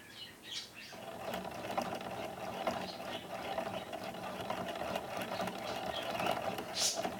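A Loops and Threads yarn winder runs continuously with a faint, steady mechanical whirr and light ticking, heard close and alone.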